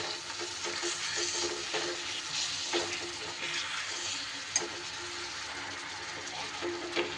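Papaya cooking in melted jaggery in a pan for naru sweets: a continuous soft sizzle and bubbling, with scattered scraping clicks of a spatula stirring the mixture.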